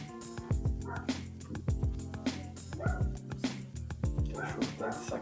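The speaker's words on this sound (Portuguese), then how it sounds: "acho que o cachorro começou a latir aqui" A dog barking indoors, repeated sharp yips and barks coming close and loud in quick bursts, with some whimpering between them.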